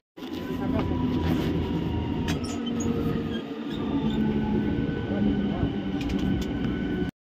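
Howrah to Midnapore local train pulling out of Abada station, with a steady rolling rumble of wheels on track, faint metallic squeaks and clicks, and voices in the carriage.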